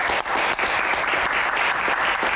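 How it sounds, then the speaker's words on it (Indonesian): An audience gives loud, steady applause at a Q&A event featuring two female military pilots, a dense wash of clapping that carries on for the whole stretch. "tepuk tangan buat mereka berdua"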